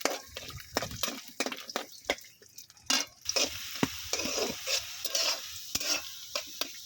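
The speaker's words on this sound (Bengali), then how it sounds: "এখন আমি দিয়ে দিব ওই তেলের মধ্যে কি জানেন, এই যে রসুন কোয়াগুলা।" Garlic cloves fry in hot oil for a dried Bombay duck curry, giving a steady close sizzle broken by frequent sharp clicks and scrapes of stirring, with no voices.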